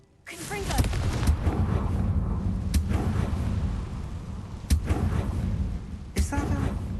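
Confringo blasting spell in Hogwarts Legacy: a series of sharp blasts and impacts over a steady rumbling game backdrop, with several distinct bangs spaced a second or two apart.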